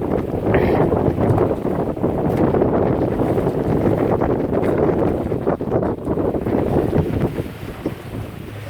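A small shanty boat heads out in rough weather, with heavy wind buffeting the microphone and a constant roar of wind and water that stays loud the whole time, without speech.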